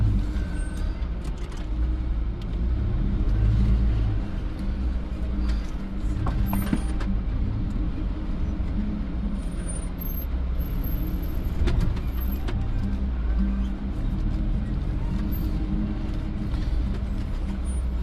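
Toyota off-road vehicle crawling slowly in 4-low first gear over rock ledges at Moab, a steady low engine drone with creaks and clunks from the suspension, close and continuous with no talk.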